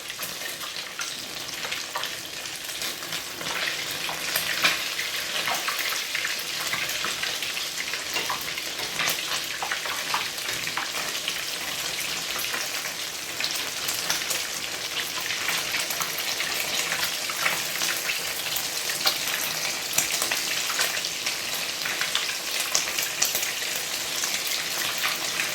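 A cheesy hotdog fries in oil, a continuous crackling sizzle with dense popping and spattering that stays steady throughout.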